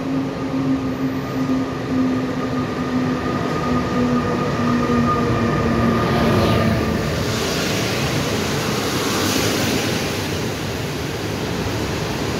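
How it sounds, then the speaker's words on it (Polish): An Intercity Pobrzeże passenger train hauled by a Griffin locomotive rolls steadily past at Łódź Widzew station, a continuous loud rumble of wheels with a fading tonal hum, close by and with no talk. "Pojawiło nam się pobrzeże z lokomotywą Griffinem."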